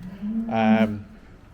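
Cows mooing in a farm shed with plenty of cubicle space: a single loud, close moo of about half a second, rising from a low hum with rich harmonics, over quiet background noise.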